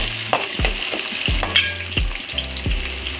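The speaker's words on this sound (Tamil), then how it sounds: "கருவேப்பிலை போடுறதுக்கு முன்னாடி இந்த வெங்காயத்தை போட்டுக்கோங்க." Onions fry in plenty of oil for a village-style brinjal curry, a loud, close, continuous sizzle broken by several thumping stirs of the pan.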